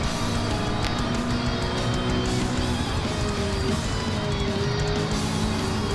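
Honda NSX race car in a racing video game, a steady loud engine drone with shifting tonal whine running continuously, other car noise blended in.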